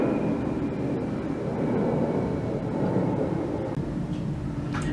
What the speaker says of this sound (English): there's an airplane flying